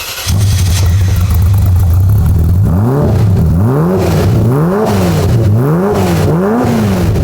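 A Ferrari F40 revs hard and accelerates, its loud engine note climbing and dropping through several rising sweeps as it pulls through gears, close and dominant with no talk.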